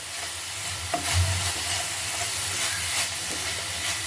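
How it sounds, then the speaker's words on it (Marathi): Fenugreek leaves sautéing in ghee give off a steady, soft sizzle and hiss with occasional light stirring clicks, close and moderately quiet throughout, with no one speaking. "मेथी आपण तुपावरच परतायची आहे"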